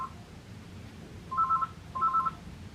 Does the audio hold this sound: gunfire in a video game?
no